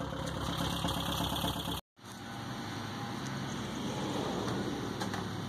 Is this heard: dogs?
no